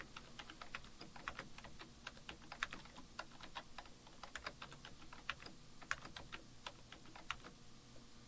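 Steady typing on a computer keyboard, crisp keystrokes in a quick irregular rhythm with occasional heavier key hits, close and fairly quiet over a faint background hum.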